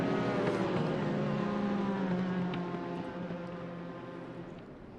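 A Porsche pace car's engine in a sim racing game at Le Mans, a steady harmonic drone that holds level and then eases off slightly, with no talking over it.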